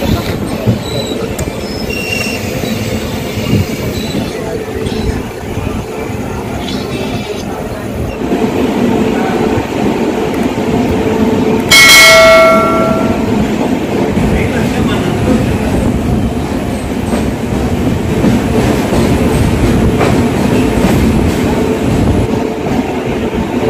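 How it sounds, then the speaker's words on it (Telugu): Tirumala Express rolls along the rails in a loud, continuous rumble of wheels and carriages, with a brief high wheel squeal partway through and faint voices in the background. "మా ట్రైన్ ప్లాట్ఫారం 1 నుండి బయలుదేరింది"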